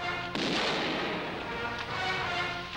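Gunfire erupts in the animated Western adventure Bob et Bobette: Les diables du Texas, a sudden loud blast followed by sustained crackling, rumbling bursts that stay strong throughout.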